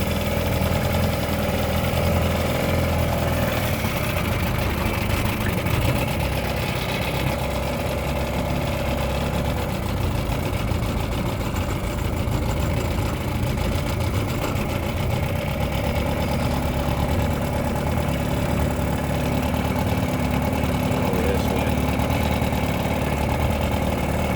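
A 1957 Mercury Mark 10 outboard boat motor idles continuously at close range, a steady low rumbling chug with no speech and little change over the whole stretch.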